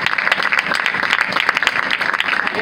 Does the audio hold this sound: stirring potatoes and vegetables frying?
no